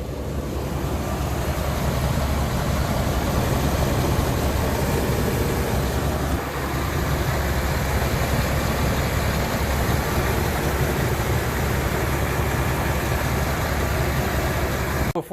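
A 2002 Dodge 1500 B van's 5.2 L engine idles before an oil change, a steady low rumble with broadband noise that holds unchanged and close, with no talking.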